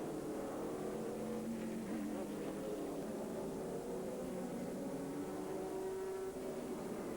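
Corvette and Saleen race cars in the 2001 American Le Mans Series (ALMS) sweep past, their engines a continuous, steady roar with shifting pitch that holds at a constant loud level throughout.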